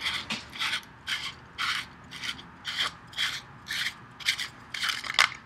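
A spa filter part being unscrewed by hand, a rhythmic series of about a dozen short scraping ratchet clicks at a steady pace, close and moderately loud with no talk.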